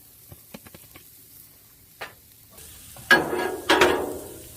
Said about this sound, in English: Now we're going to get our hash browns in there.